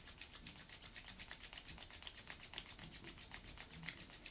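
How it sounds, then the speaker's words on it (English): Palms rubbing briskly together in a steady back-and-forth rhythm, soft and close, with about a dozen even strokes and no talk over them. "Now please begin rubbing your palms together to create some heat"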